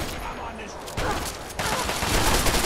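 Gunfire from the video game Fallout 3, a sustained volley of shots thickening into denser bursts toward the end, heard over faint background noise.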